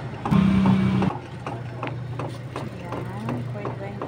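A soft serve ice cream machine runs its wash cycle with a steady, low mechanical hum and faint intermittent clicks, louder at first and then settling into an even drone.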